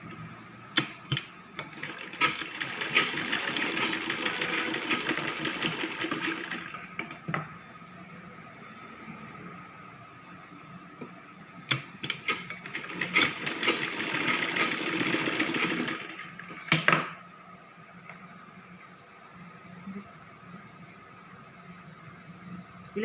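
Sewing machine stitching piping onto a baby girl's 3/4 frock, running in two long bursts of steady whirring separated by a quiet pause, with a few sharp clicks at the stops and no talk.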